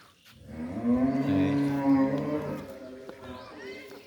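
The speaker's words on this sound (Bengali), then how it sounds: "এই যে একটা গরু এখানে" A cow moos once in a village on an Eid morning, a long, loud, close, tonal low call lasting about two seconds, then fading into quieter rustling.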